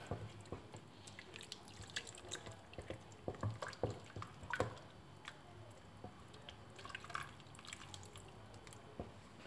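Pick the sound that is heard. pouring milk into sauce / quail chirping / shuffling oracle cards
pouring milk into sauce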